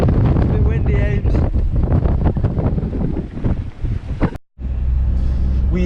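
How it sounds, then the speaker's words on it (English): Strong, gusty wind buffets the microphone in a loud, roaring rush, likely outdoors near water on a New Zealand trip, cutting out briefly near the end before resuming. "It's a bit windy, Ames."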